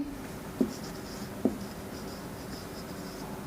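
A pen writes by hand on paper in a quiet indoor setting, a soft continuous scratchy stroking sound broken by a few sharp taps as the pen meets the page, close and alone.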